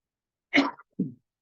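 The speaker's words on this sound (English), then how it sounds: "that was the last cough, hopefully, that you're going to hear from me" Two short coughs close to the listener, a sharp first one followed by a softer second, with silence around them.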